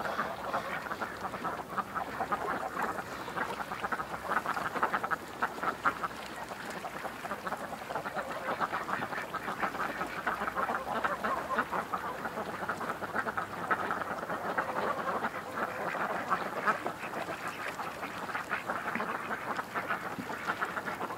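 A flock of roughly 125 ducks quacks continuously in a yard, a dense, busy chorus of overlapping calls heard at moderate distance.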